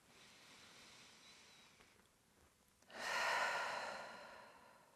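Breathing during a yoga class: a slow, soft exhale, a brief pause, then a fuller, louder breath that rises and gradually fades, close to the microphone and alone in a quiet room.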